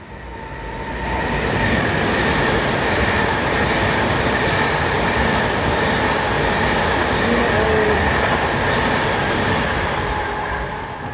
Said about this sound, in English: We can get the unit of the Pendolino, which will be passing literally now.